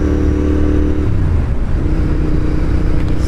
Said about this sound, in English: A little crackling and popping whenever I get off the throttle.